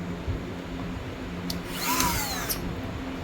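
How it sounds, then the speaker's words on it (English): A Dremel rotary tool whines steadily for the whole stretch while working on a rifle rail mount, a constant high buzz with a brief rising pitch sweep in the middle, close and without speech. "Thank you, Mr. Dremel."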